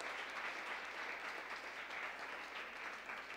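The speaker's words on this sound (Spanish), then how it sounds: "Un aplauso para él." Steady applause from a church congregation during a Sunday service, a dense even patter of many hands clapping, heard at a modest distance and fairly quiet throughout.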